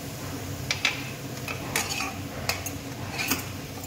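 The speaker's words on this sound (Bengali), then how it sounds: "এবার আমি সামান্য একটু জল দেবো, দিয়ে মশলাটাকে ভালো করে মিশিয়ে নেব।" A spoon stirs spice paste with a little water and sugar in a pan for a bean curry, producing light scraping and a few soft clinks against the metal, close and quiet, without talking.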